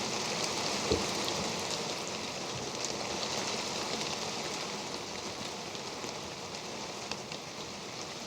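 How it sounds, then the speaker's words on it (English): Steady rain drumming on a sailboat's deck and coach roof, a dense continuous hiss with a few closer drips and knocks, no talk. "It's been raining off and on, and I've had waves breaking over the bow and hitting the coach roof."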